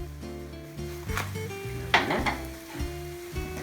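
An omelet sizzles and fries in a pan that is jerked back and forth to flip it, with soft scraping and metallic clatters over background music and a bright burst near the middle.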